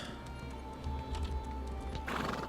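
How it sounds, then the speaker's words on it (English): Steady clip-clop of horse hooves over a low rumble in the video game Elder Scrolls Online, then a horse neighs loudly near the end. "Back on my horse"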